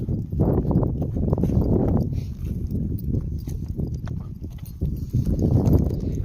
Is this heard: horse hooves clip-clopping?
yes